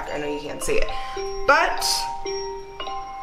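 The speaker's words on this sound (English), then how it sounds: "Ooh, and that is my alarm." A phone alarm rings with a repeating electronic chime of clear bright tones, close and moderately loud, while someone talks over it.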